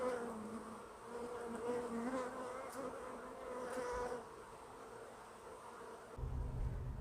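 Honey bees buzz around an open hive while a new queen is spotted on the comb, a soft steady drone with individual bees passing close and fading away, fairly quiet with no talk.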